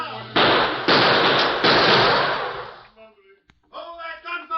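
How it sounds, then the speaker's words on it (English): Rapid bursts of gunfire from an old 1940s Lone Ranger radio drama, three loud close shots over a noisy broadcast hiss, then a voice speaking. "Hold that gunfire in there."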